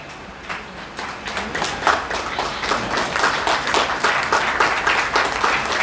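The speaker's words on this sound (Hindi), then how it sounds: "आपकी तालियां लगातार बजती रहनी चाहिए।" A crowd at a community foundation-day ceremony in a Garhwal hall claps steadily, close and loud, with distinct individual hand claps in a lively, uneven rhythm sustained throughout.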